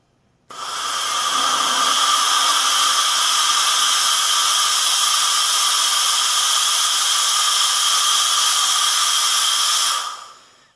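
A KleenJet Ultra 5000CVP vapor steam cleaner set to high gives a loud, steady, close hiss of steam that starts abruptly, holds evenly for about ten seconds, then cuts off, with no voices.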